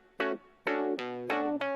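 Funky guitar chords in a beat sound as four sharp, bright strums in quick succession, each ringing briefly with rich overtones, close and prominent with no talking.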